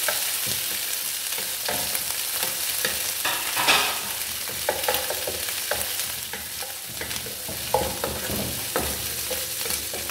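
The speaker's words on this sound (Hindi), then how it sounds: "ऑयल गर्म हो गया है तो अब मैं उसमें ऐड कर देती हूँ ये लहसन अदरक का पेस्ट" Garlic ginger paste frying in hot oil, a loud continuous sizzle with frequent stirring clatter and crackles throughout, no one speaking.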